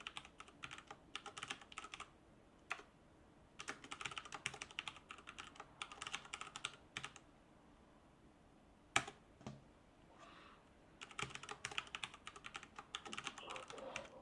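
Commands being typed on a computer keyboard while compiling and running a program: bursts of rapid, close key clicks separated by pauses, with a few sharper isolated key strikes, and no talking.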